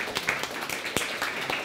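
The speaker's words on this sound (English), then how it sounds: "give him a round of applause" A small audience at a corporate talk on personality claps for a volunteer walking to the front, producing moderately loud, loose applause with individual sharp claps standing out.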